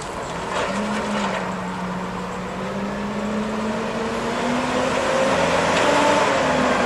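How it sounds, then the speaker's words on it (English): A Yale GLP050 5,000 lb pneumatic-tire forklift engine drones steadily as it drives, its pitch rising and falling with a rolling hum over a rough mechanical rumble. "the most powerful forklift engine out there"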